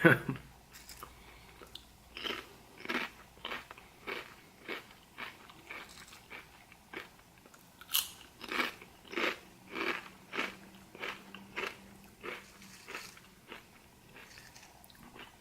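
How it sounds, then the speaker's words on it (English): Kettle-cooked salt and vinegar potato chips crunched close up, a steady run of loud crisp bites and chews about once a second, with faint voice traces and a distant dog barking in the background. "The crunching of kettle chips will be very ASMR-like."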